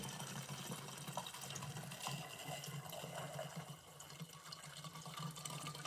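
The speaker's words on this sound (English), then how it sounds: "And then I pour the gas in the can." Gasoline poured into a jerry can, a soft continuous liquid trickle and gurgle running throughout, faint and close, with no voices.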